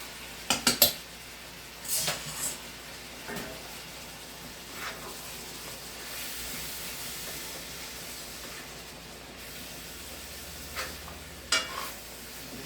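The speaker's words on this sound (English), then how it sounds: "and then I'm going to stir my noodles." Lasagna noodles are stirred in a pot: a few clinks of a utensil against the pot at the start, then soft, intermittent stirring over a low, steady background of cooking.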